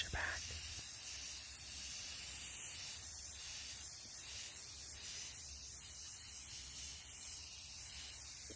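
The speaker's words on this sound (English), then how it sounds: "We're gonna start by giving them a base coat of this charcoal, and for my spray paint lovers, I got your back." A spray paint can hisses steadily as a charcoal base coat goes on, a soft, continuous airy spray heard close but faint.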